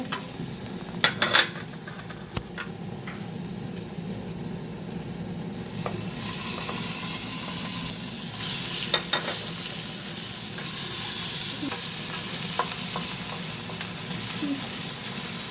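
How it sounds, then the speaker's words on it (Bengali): Pasta cooking in a pan, a steady sizzle and hiss with scattered scraping and clinking of stirring, close and continuous for about fifteen seconds. "এখন পাস্তা রান্না করতেছে নিজে হাতে"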